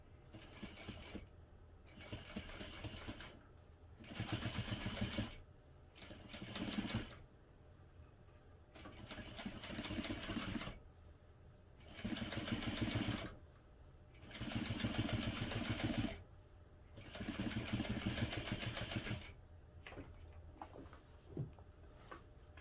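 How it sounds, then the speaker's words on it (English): A home sewing machine top stitches along a bag seam at a 1/8 inch allowance, running in several steady bursts of a few seconds each with short pauses between, close and clear with no talking. "now we're going to top stitch along that seam using a 1/8 inch seam allowance"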